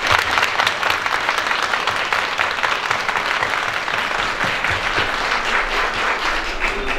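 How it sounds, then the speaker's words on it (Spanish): A crowd at a San Antonio de Padua patron saint celebration in Ciudad del Maíz, San Luis Potosí, gives a steady, close burst of applause, dense clapping that holds evenly throughout with no voices over it. "Le damos un aplauso a nuestro patrón."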